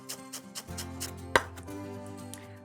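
A sharp knife runs through a scrunched bunch of fresh parsley leaves on a board, giving a quick series of crisp chopping taps, close up, with one louder knock partway through and no talk.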